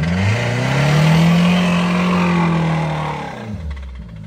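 A 2010 Mazda 3 with a turbo 2.3 engine, knocking and barely running with a stuck parking brake, revs in one long loud surge that holds for a few seconds, then sags and fades toward the end.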